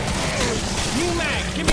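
Boomstick shotgun firing in the video game Killing Floor, a loud blast bursting out right at the end after busy in-game combat noise and a voice.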